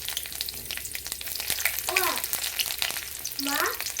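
Chopped garlic fries in oil with a close, continuous sizzle and stirring scrapes, while a voice chirps briefly in the background.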